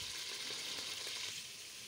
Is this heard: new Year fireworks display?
no